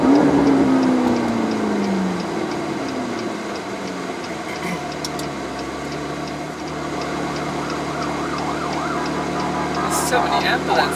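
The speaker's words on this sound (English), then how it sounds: "So many ambulances." Wailing ambulance sirens pass along a busy street in Manila, loud at first then sweeping and fading under steady traffic and engine noise, with people talking over them.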